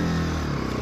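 A Bajaj Pulsar RS motorcycle being ridden gives a loud, close, continuous engine drone with a slight rising rev, with no voices over it.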